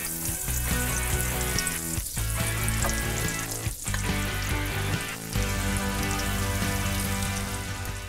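Chicken breasts browning in a pan of butter mixed with canola oil, giving a loud, dense, continuous sizzle and crackle close up, with brief dips in intensity and no talking.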